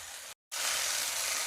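Chicken kasha sizzles and fries steadily in a pan, a loud, dense hiss that cuts out briefly before resuming.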